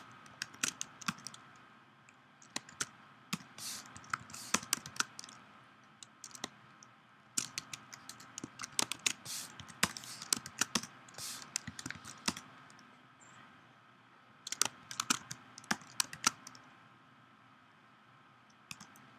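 Rapid bursts of computer keyboard typing while filling in fields in an asset editor, close and crisp, with uneven clusters of clicking keystrokes separated by brief pauses and no talking.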